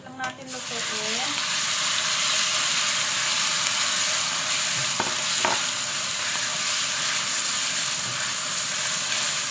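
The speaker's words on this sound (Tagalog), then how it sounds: "At mabango ng ating luya, ilagay na natin ang ating baka." Beef and ginger stir-frying in a hot pan, a loud, dense, continuous sizzle that holds steady for the whole stretch, with a couple of faint knocks partway through.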